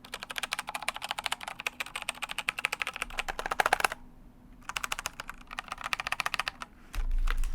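Fingers type rapidly on a keyboard fitted with GX Brown tactile switches, producing dense runs of crisp clacks broken by a short pause, close up and with no talking.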